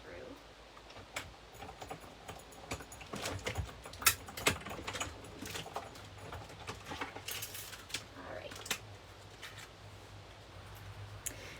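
A paper die-cut machine runs with soft mechanical clicks and scattered taps of card and tools at a quiet distance, and a person speaks softly at times underneath.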